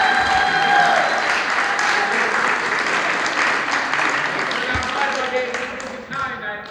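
Crowd applause at a Special Olympics pep rally in a school gym, a sustained wash of clapping with some cheers and a few voices, fading toward the end.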